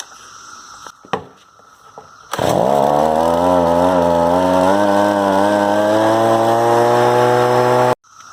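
A repaired Stihl BG50 leaf blower fires up and runs steadily at high revs, a loud, close, continuous engine drone with a strong harmonic whine that settles into a sustained roar and cuts off abruptly after several seconds.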